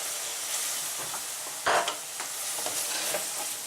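Corn flour stirred into hot oil in a frying pan, with a steady sizzle and hiss and scraping stir strokes, close up.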